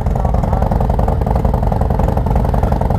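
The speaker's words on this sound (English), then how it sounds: "You hear it, the RPM's a little bit higher." Stage 2 Harley-Davidson Low Rider ST motorcycle idles after a cold start at slightly raised RPM, a steady close rumble with a faster, more even beat and higher tone.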